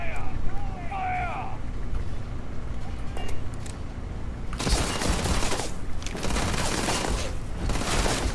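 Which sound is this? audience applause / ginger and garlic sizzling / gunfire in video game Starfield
gunfire in video game Starfield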